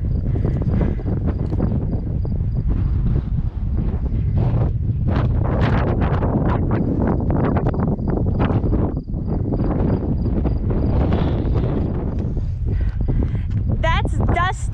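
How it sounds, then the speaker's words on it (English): Strong wind gusts buffet the microphone on an open hillside by basalt lakes, loud continuous roaring and rumbling throughout, with a person talking over it. "as you can hear, there's wind"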